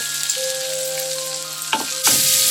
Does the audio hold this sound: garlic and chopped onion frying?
yes